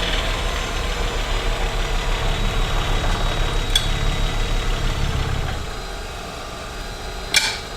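Bowl gouge cutting wood on a lathe, a steady rumbling, grinding cut that holds for about five seconds and then drops away to the quieter hum of the spinning lathe, with a couple of sharp ticks afterward.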